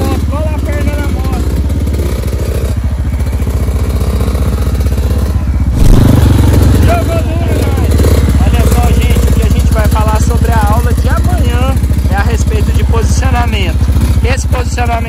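A Yamaha YZ65 dirt bike putters along slowly, its engine rumbling steadily with some clatter, while people talk over it throughout.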